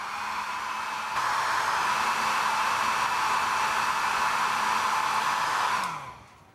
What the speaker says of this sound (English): we're going to take the hair dryer really quickly here